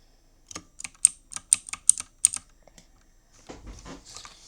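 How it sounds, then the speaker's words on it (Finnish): A very loud computer keyboard clattering under quick bursts of keystrokes, sharp close clicks in an uneven run, then softer scattered tapping after a short pause. "Jostain syystä mun näppäimistö on ihan sairaan äänekäs."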